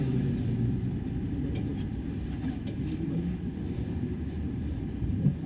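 A train passes nearby as a steady low rumble and rolling wagon noise that lasts the whole time at a moderate, even level, with no talking.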